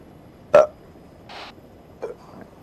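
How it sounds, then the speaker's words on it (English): Several people burp over a voice chat: one loud short belch followed by two fainter ones, spaced apart against a quiet background hiss. "stop burping, you lot"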